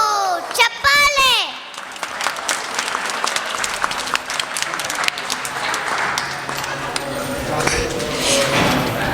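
Audience clapping at a school annual day fills the hall steadily, with children's voices and scattered chatter mixed under the applause.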